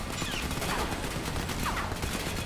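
Turret gunfire in the video game Crysis 3: dense, continuous rattling bursts of automatic fire that fill the whole moment loudly, with no voices.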